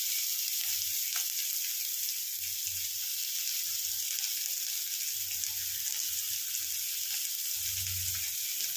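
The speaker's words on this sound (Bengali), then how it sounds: "এটাকে ভালো করে ভেজে নেব।" Finely chopped onion with two small dried red chillies frying in oil, a steady, even sizzle that runs through the whole stretch with soft low bumps from the pan, no voices.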